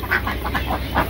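Ducks quacking as they are herded into their shed at dusk in a village: a run of about six steady, nasal quacks close by, with no talking.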